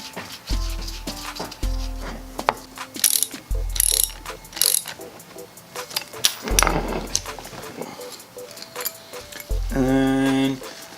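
A ratchet wrench clicks repeatedly as a nut is tightened on a Miata steering rack, in loud close runs of quick ratcheting broken by brief pauses and clanks, with some talk.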